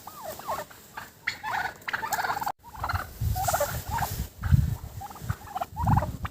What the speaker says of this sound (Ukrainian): Злякалися індики. Куди? Куди біжите?